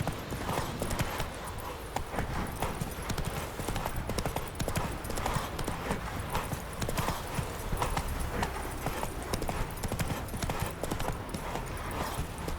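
Roach the horse gallops in The Witcher 3, its hooves clip-clopping in a fast, steady, continuous rhythm, loud and close, over a dense background of game sound.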